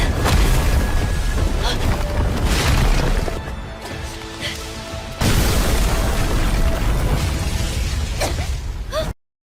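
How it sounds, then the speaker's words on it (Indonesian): An explosion in a Martial Peak donghua animation bursts loud and dense, a sustained roaring blast with crashing debris and a second surge midway, cutting off abruptly at the end. "Dan pada akhirnya ledakan pun tercipta."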